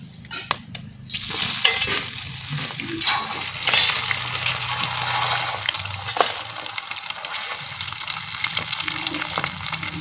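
Egg bhujia fries in white oil on a large tawa with a continuous crackling sizzle. Sharp metal clinks and scraping from a utensil come through, loudest in the first second, and there is no talk.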